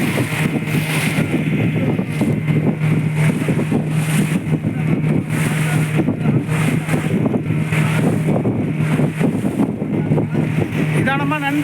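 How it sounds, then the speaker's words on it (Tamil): A fishing boat's engine drones steadily and loudly as it heads out to sea at dawn, with wind buffeting the microphone and constant water rush, and a voice speaks faintly beneath the noise. "அதிகாலையில் நிலா வெளிச்சத்தில் நாங்கள் போயிட்டுருக்கோம் கடலுக்கு."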